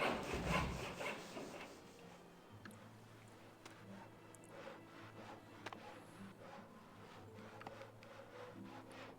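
Repeated sawing of wood for plank making at a sawmill in the Farthest Frontier colony-building game, steady rasping strokes at moderate distance with faint background ambience and occasional clicks.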